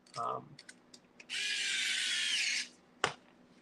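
A screwdriver drives a small screw into a Tamiya CC-02 RC car kit, giving a steady whirring buzz of about a second and a half, close and fairly loud, with light clicks and taps of parts before and after.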